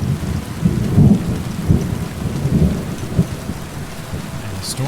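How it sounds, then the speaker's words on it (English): A thunderstorm with steady rain falling on surfaces in the video game Kingdom Come: Deliverance 2 mixes low rolling thunder rumbles with constant rain hiss, with no talk over it. "And the storms in this game certainly do sound realistic."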